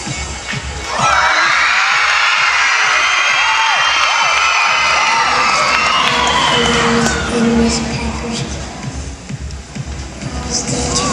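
A crowd at a school talent show screams and cheers loudly and continuously, high shrieking voices filling the hall for several seconds before easing slightly.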